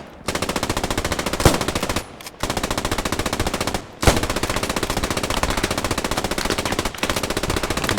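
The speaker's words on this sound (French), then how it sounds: "Il me tire dessus, je peux rien faire!" Rapid automatic gunfire in a World War II shooter game set at the Maginot line, loud and nearly continuous in long bursts with brief pauses between them.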